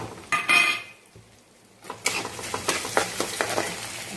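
Green chillies go into a pan of frying lentils for a rice flour and moong dal upma: a brief sizzle and clatter at the start, then a quiet pause, then steady sizzling with rhythmic stirring scrapes.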